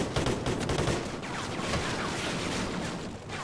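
Enemy gunfire in Call of Duty: Ghosts, sustained rapid rifle bursts and crackling shots rattling continuously at moderate volume, with no pause across the stretch.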